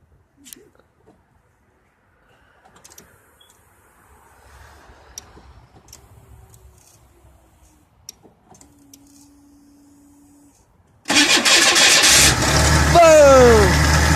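A car engine cold-starts in 39-degree weather. A long, nearly silent stretch with faint movement and voices gives way to a brief crank, then the engine catches into a loud, steady idle close by.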